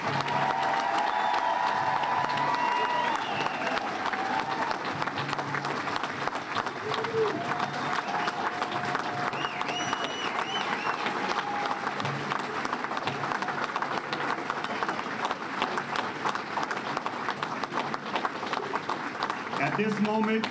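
A packed hall at a Boston Fire Department recruits graduation ceremony bursts into long, sustained applause with scattered cheers and whistles, the clapping steady and loud throughout while voices call out over it.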